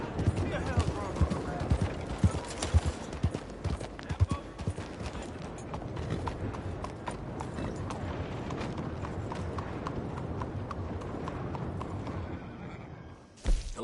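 Rhythmic clip-clop of horse hooves on a hard surface in the video game Red Dead Redemption, steady and continuous, with faint background voices and a soft thud at the end.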